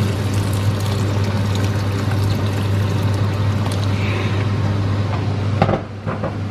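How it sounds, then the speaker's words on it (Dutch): Hot water is poured over green beans already sitting in a pot, a loud, steady rushing pour that runs for several seconds before stopping abruptly, followed by a few light clinks. "En nu doe ik er heet water over."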